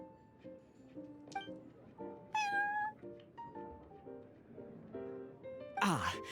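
A cat meows in a video game, with a short bright cry rising above a steady bed of background music, and a brief swooping whoosh near the end.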